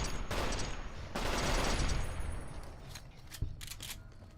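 Rifle gunfire in Fallout: New Vegas, a dense burst of shots and game noise with a strong peak near the middle, then fading, with a sharp single shot near the end.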